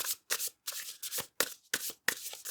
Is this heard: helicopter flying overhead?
no